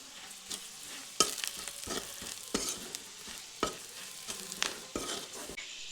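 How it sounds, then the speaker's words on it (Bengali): Turmeric, chili powder and salt sautéed with a little water in a pan, a soft, continuous sizzle broken by repeated scraping stirs, close and fairly quiet. "তো দিয়ে হালকা জল দিয়ে এই মশলাটিকে কষিয়ে নেব।"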